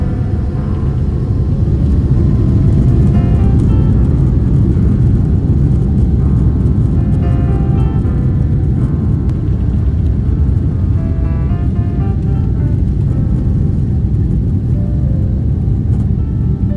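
Qatar Airways Boeing 777-300ER taking off, heard from inside the cabin as a loud, steady, dense engine roar and rumble that holds throughout without letting up.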